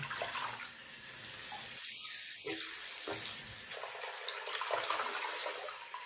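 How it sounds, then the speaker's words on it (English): Shark vacuum filters rinsed under a running tap, a steady hiss of flowing water with a short gurgling splash in the middle as the filter meets the stream, no talking. "going to take the filters and run them under the water and get them fully soaked in"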